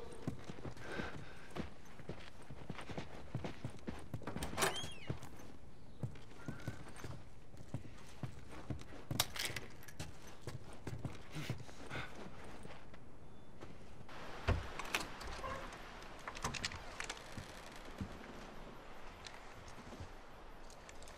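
Steady clip-clop of horse hooves moving along at a walking pace in the video game The Last of Us, with a brief whinny and some clattering in the background.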